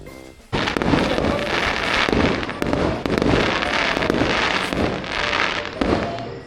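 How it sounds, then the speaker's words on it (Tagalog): Fireworks going off near a corner lot in a housing development at Batulao: loud, close crackling and popping bursts follow one another almost without pause, a continuous barrage with sharp reports, with no speech. "Lagi kami may free fireworks."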